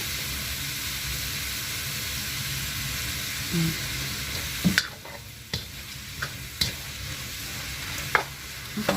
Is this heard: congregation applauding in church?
no